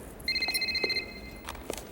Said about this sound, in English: Kyle MacLachlan picks up the phone and commands Phil to apologize